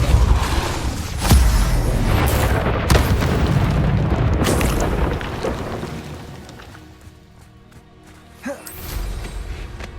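Spells cast in Hogwarts Legacy, loud booming magical blasts and whooshing bursts one after another, with a deep rumble and a fading tail before a final impact.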